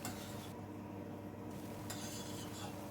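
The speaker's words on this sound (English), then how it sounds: "I'm going to stir at this point" Fish curry with mango being stirred in a pan, a steady scraping and clinking of utensil against metal over a low continuous sizzle, close and moderately loud throughout with no talk.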